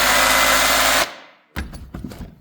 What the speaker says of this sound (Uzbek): Hozir bu bolg'a rejimida.